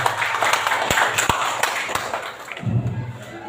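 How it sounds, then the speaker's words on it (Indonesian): Children in a classroom clap in a short burst, with a few sharp individual claps standing out near the start before the sound fades into quieter room noise. "tepuk tangan buat tadi"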